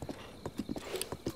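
Hooves of a horse being ridden along a path in Zelda: Breath of the Wild, a quick, even clip-clop of close, soft footfalls with no voices.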